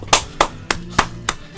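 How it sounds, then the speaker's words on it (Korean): Five sharp hand claps at an even, brisk pace, close and fairly loud over a low, steady background hum. "아우 박수!"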